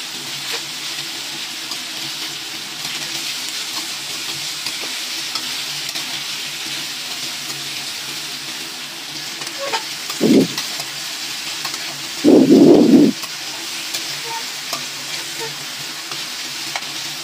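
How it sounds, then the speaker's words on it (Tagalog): Chicken wings stir-fry in a hot pan with a steady soft sizzle, and two brief louder scrapes or clatters from stirring about two seconds apart, with no voices. "ilagay natin ang chicken wings at stir fry muna natin para matanggal yung lansa"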